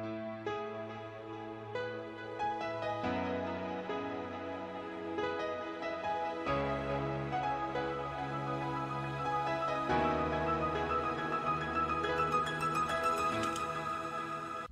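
A MIDI piano top-line melody from an SRX Orchestra piano-and-strings preset plays over a full, layered trap beat, quiet but steady, with sustained chords underneath and no voices.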